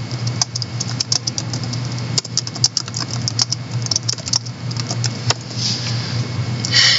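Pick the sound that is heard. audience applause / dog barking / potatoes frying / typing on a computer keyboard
typing on a computer keyboard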